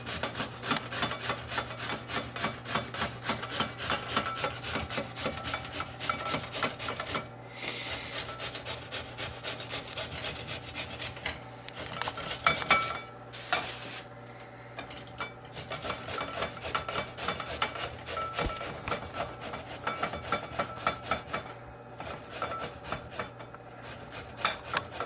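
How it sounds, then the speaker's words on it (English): Raw squash being grated by hand, a steady rasping scrape in quick repeated strokes that runs close and loud for the whole stretch, with brief pauses between passes and no talking. "we're going to grate a couple of squash"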